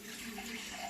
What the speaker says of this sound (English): And so now I'll be fetching my water